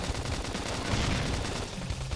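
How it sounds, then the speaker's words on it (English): Gunfire in the video game Xenoblade Chronicles X, a dense continuous rattle of rapid shots that fills the whole moment, steady and loud with no talk. "Topple them with gunfire."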